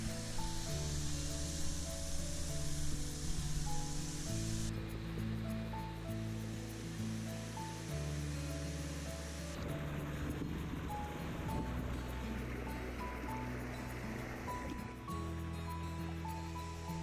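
A waterfall's steady rushing roar fills the scene during a climb beside it, continuous and close, with a layered tonal drone over it.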